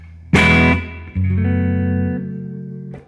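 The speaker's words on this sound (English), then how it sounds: "It's a fat neck pickup." A Squier J Mascis Jazzmaster electric guitar played through its neck pickup, with a full, warm chord struck and left to ring, then a second chord sustaining and slowly decaying, loud and close with no talk.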